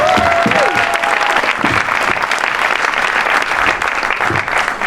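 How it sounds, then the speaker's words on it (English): A crowd at an anniversary gathering applauds loudly and continuously, many hands clapping in a dense roar, with a few brief whistles or cheers early on. "Come on, round of applause for that."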